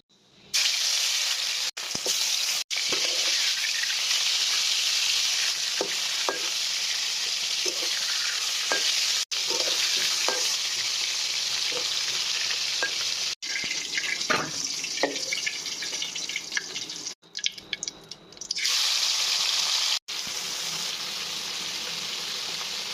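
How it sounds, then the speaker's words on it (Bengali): Shol fish crisping in hot oil in a home kitchen, a steady close sizzle with occasional stirring clatter running nearly continuously, with a brief dip near the end. "এখন এটা মচমচে করে ভাজা হবে"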